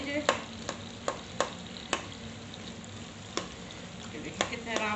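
Tomatoes mashed and fried for chicken karahi, a spoon knocking and scraping against the pan in sharp, irregular clicks over a constant hissing sizzle.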